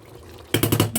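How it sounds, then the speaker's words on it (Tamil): Water comes to a rolling boil in a pot for spicy mushroom biryani, with a soft simmer suddenly giving way to loud, close, rhythmic bubbling bursts. "அதுக்கப்புறம் தண்ணி நல்லா கொதிச்சு வந்துருச்சு."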